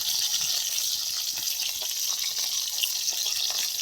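Okra fries in oil in a pan, a continuous soft, crackling sizzle with scattered tiny pops. It stays fairly quiet and even throughout, and no one speaks.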